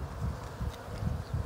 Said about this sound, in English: let me get these bees off here